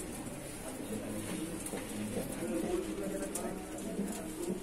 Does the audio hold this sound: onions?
no